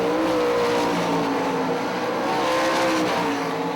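Sprint cars roar around the dirt oval at Hartford Speedway Park, a loud, continuous engine howl with pitch rising and falling as the pack heads down the back straightaway into the turns.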